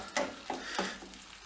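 A spoon stirs a sizzling, fatty mass in a hot frying pan, with three distinct scraping strokes over a steady crackle of frying, close and fairly quiet, with no voices.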